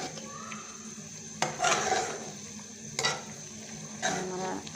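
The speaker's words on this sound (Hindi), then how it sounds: "अब इसको हम हिला देते हैं हल्का सा" A spoon stirs beaten egg into simmering soup in a cooking pot, with a soft bubbling sizzle underneath and a few distinct scrapes and clinks against the pot, close and quiet.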